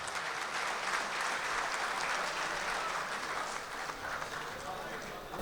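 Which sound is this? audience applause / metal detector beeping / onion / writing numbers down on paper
audience applause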